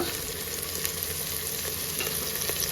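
Softened tomato with turmeric and chilli powder frying in a pan for a millet or quinoa pulao: a loud, steady, dense sizzle runs throughout, with occasional light stirring clicks.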